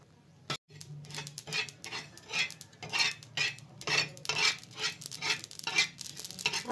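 A spoon stirs poppy seeds dry-roasting in a pan for spicy Puneri misal pav, giving a close, rhythmic run of scraping and rattling strokes that repeat steadily with no talking.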